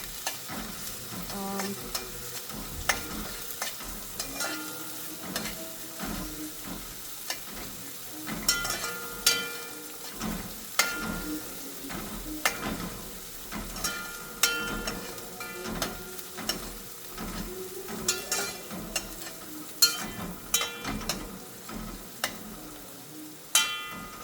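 Dasheen bush simmering in a pot, with steady bubbling and sizzling plus frequent clinks and scrapes of a spoon stirring, close and moderately loud throughout without talk.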